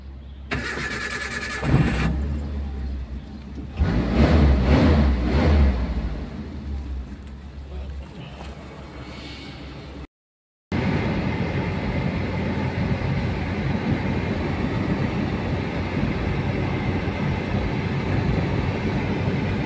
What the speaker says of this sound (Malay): Sekarang kita nak start van.